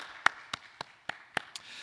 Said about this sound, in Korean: 하나님 앞에 영광의 박수 다 같이 올려드리겠습니다.